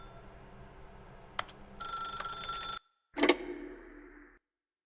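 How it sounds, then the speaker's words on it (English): A telephone rings in The Stanley Parable video game, two bursts of bright electronic ringing separated by a short silence, the second louder and trailing off, with a soft tick heard earlier. "Now pick up the phone."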